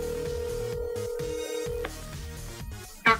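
A telephone rings repeatedly with a steady electronic tone on a prank call that goes unanswered, ending in a brief louder burst near the end, with no talk.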